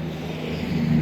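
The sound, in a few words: 408 W2 headed V8 engine running in VH Charger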